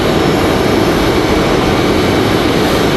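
American Airlines A320 jet arriving from Philadelphia at Raleigh-Durham airport, its engines a loud, steady broadband roar that holds without a break, with no one speaking over it.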